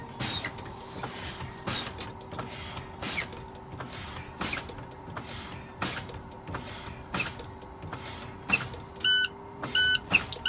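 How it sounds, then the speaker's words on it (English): A truck's in-cab low air pressure alarm beeps in regular pulses as pressure drops between 80 and 60 psi, over a low steady hum, with a few faster, brighter tones near the end; no talking. "I both hear and see the low air alarms."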